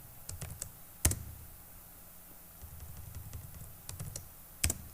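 Latitude figures typed on a computer keyboard into a cartographic data spreadsheet, a few soft key taps with two sharper clacks, likely the spacebar or enter key, close and quiet with no talk.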